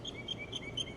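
A pigeon chick calls in a quick series of thin, high squeaky peeps, about eight in one second, faint and close, with no voices.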